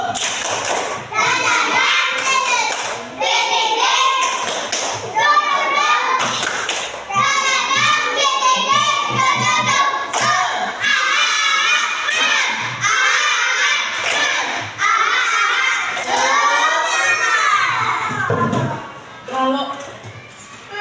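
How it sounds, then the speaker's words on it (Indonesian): Children in a classroom chant and clap together in a rhythmic cheer, sharp group claps falling in patterned bursts under loud, continuous young voices. "kita tepuk semangat dulu yuk"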